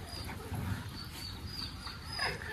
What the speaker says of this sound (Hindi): और गबरू चिल्लाने में लग गया कि मुझे भी छोड़ो, मैं भी चिंकी के साथ मस्ती करूंगा।